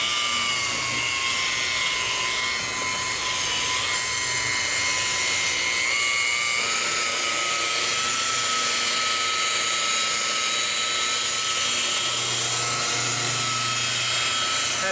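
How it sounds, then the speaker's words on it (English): A car paint buffer whirs at low RPM over a Jaguar XK RS hood, a steady high-pitched electric whine with a droning hum beneath, close and continuous without talking. "I'm going to use this buffer at a very low RPM"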